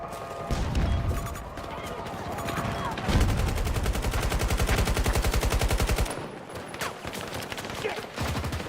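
Rapid automatic gunfire from the player's weapon in Battlefield 2042, loud sustained bursts with a fast regular rhythm, broken by brief pauses, with other game sounds mixed in.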